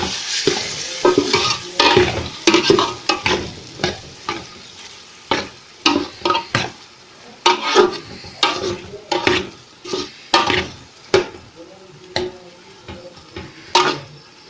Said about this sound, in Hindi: इस टमाटर और सब्ज़ मिर्च इसमें शामिल है। इसको भी अच्छी तरह भून देंगे।